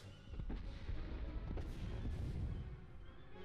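Explosions from a planetary bombardment in the space strategy game Master of Orion: a dense run of booming blasts and crackling bursts over a rumbling bed, loud and continuous for a few seconds before easing off.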